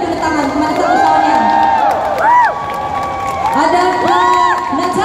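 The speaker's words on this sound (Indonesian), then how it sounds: "Ramai tepuk tangan kepada satu Shaunya." Audience at a competition cheers and applauds for contestant Shaunya, with loud shouts, whoops and children's voices rising over continuous clapping, swelling in bursts throughout.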